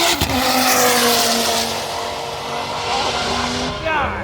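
A Dodge Viper and a Nissan GT-R make a drag racing pass at the FL2K19 event. Loud, close engine roars rise sharply in pitch at the start and again near the end.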